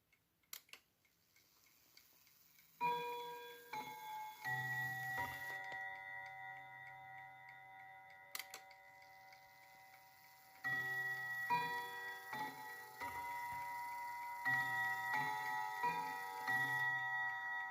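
Hermle mantel clock with Westminster chimes, quiet mechanical ticking at first, then sustained bell-like chime tones ring out and overlap in several struck groups, close and clear, no talking.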